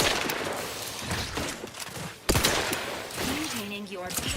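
Bursts of gunfire in the video game The Outer Worlds 2, a rolling fusillade with a sharp loud shot midway, mixed with game sounds while a voice talks over it.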